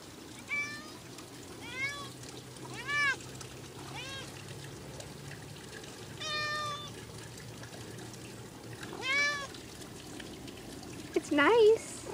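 A cat meows several times at intervals, moderately close, with faint background hum and a brief voice near the end.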